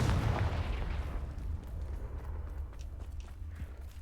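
A fiery Confringo spell blast in the video game Hogwarts Legacy, a loud, close, low rumbling explosion that decays into a crackling roar over four seconds.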